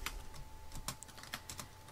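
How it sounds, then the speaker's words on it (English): Quick irregular keystrokes on a computer keyboard, close and fairly quiet, with a steady electronic hum underneath and no voices. "I would just type what I want to say"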